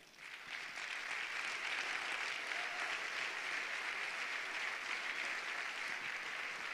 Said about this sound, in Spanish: Un fuerte aplauso para Julen Amezqueta